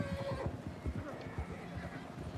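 A horse whinnies in Red Dead Redemption 2 Online, with hoofbeats clopping beneath it, while people talk over the game sound.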